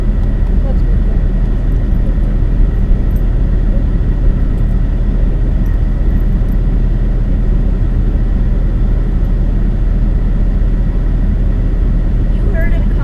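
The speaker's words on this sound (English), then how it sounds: "Helicopter." A helicopter passes overhead in a forest lakes camping area, a steady low rumble filling the whole stretch at fairly loud level, with voices talking over it.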